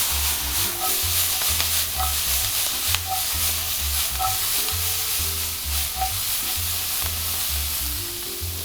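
Onion, shallot, garlic and thyme sizzle and crackle steadily in a hot pan while short ribs are cooked down, with a low rhythmic hum underneath and occasional stirring scrapes, no talk.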